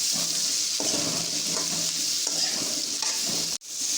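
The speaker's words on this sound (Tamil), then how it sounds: "இதை வந்து நல்லா வதக்கி விட்டுருவோம்" Sliced radish is sautéed in a pan for a village-style mutton curry, giving a steady soft sizzle with repeated scraping strokes of a spoon and a brief clank near the end.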